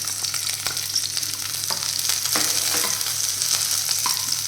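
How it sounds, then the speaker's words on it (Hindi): Garlic and chili fry in a spoonful of refined oil, a loud, continuous crackling sizzle close up, with scattered stirring ticks throughout and no speech. "उस रिफ़ाइंड में मैं ये थोड़े से लहसुन और मिर्च डाल दूँगी और इसको हम हल्का सा भून लेंगे"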